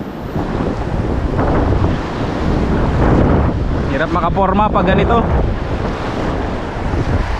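Rough, whitecapped sea seen from a small boat on a windy day, with broadband wind buffeting the microphone and a steady wash of waves throughout, while someone speaks over it.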